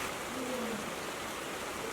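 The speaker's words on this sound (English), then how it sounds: "It's warm, it's raining." Warm rain falls steadily outdoors, a soft, continuous hiss of drops that holds evenly from start to finish with no voices.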